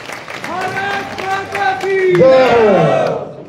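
Crowd clapping at a BJP political rally in a Rajput chaupal in Kalayat, a steady patter of applause swelling toward the end beneath someone speaking loudly over it.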